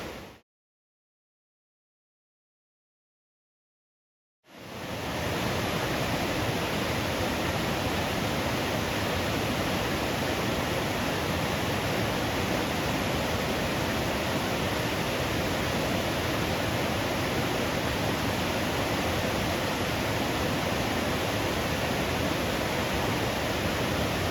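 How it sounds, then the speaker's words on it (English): Powerful rushing water roars steadily and loudly after a few seconds of silence, a dense unbroken wash of noise. "Crazy how powerful water is."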